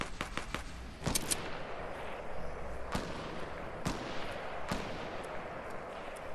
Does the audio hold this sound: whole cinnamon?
no